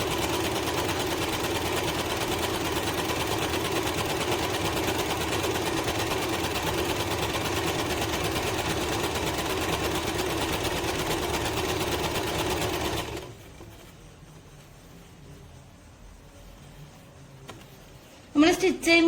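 A Usha Janome DLX sewing machine stitches with mesh foot in a steady, even whir for about thirteen seconds, then stops, leaving quiet room sound and a brief clatter at the end; nearby and moderately loud.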